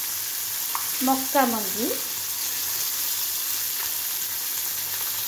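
Paneer cubes frying in a pan for vermicelli upma, a soft steady sizzle throughout, with a brief spoken phrase partway through.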